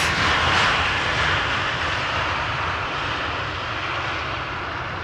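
An arriving airliner at Amsterdam Schiphol Airport gives a steady, loud engine roar that thins slightly as it passes, with no voices over it.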